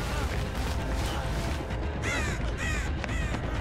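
Crows in the video game Dead by Daylight give two loud, harsh caws in quick succession over a dense, noisy game soundscape.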